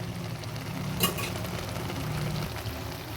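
Cumin powder being stirred into a simmering curry of hilsa fish head and ash gourd, giving a steady sizzle with a brief scraping clink of the spoon against the pan, close and alone.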